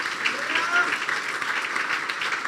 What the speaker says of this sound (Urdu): تالیاں تسی بڑے جوش میں بجا رہے ہو